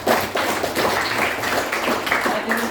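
A group claps during a class lesson, a continuous patter of many hands at moderate loudness with a few heavier taps mixed in.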